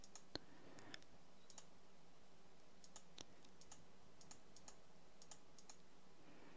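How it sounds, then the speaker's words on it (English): Faint, scattered mouse clicks at a computer while working in MagicaVoxel voxel software, single light ticks spaced irregularly over a quiet room hum. "pre-built shapes, which we can just click on"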